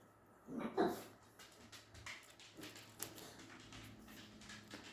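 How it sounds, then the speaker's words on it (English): A single dog bark sounds near the start, then faint whimpers and soft noises follow in a quiet room. "my dog is barking"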